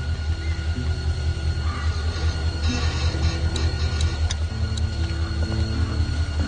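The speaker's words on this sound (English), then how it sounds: "Train's cool, huh?" A train rolling by in a steady low rumble, with wheel and rail noise and some higher squeals and clanks rising in the middle, loud and close.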